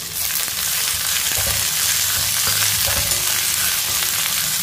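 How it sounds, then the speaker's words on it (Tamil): Pirandai, adamant creeper, frying in oil over medium heat makes a loud, dense, continuous sizzle, with faint stirring knocks underneath and no talking. "அதனால கொஞ்சம் நல்லா அடுப்பை வந்து மீடியத்தில் வச்சு நல்லா வதக்கிடுவோம்."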